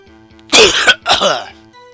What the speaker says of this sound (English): as I'm coughing up a lung,